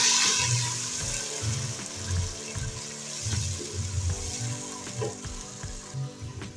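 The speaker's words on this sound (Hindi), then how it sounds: "मुझे इसमें अभी साथ ही डाल देना है तकरीबन हाफ कप पानी" Water is poured into a hot pot of chicken yakhni pulao and sizzles against the oil and green chilies, a bubbling, hissing sputter that swells at the start and settles into irregular crackles.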